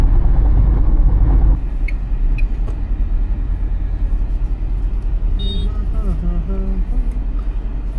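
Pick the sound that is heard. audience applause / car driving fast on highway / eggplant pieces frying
car driving fast on highway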